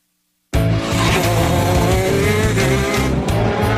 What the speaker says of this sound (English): with its one-cylinder 125cc engine, reaches speeds of 180 kilometers per hour.